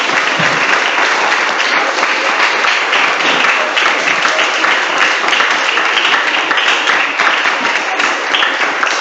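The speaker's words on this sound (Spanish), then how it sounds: "Denle una vez más una ofrenda de palmas al Rey" A church congregation claps together as an offering of applause, a dense, steady roar of hands that stays loud and even from start to finish.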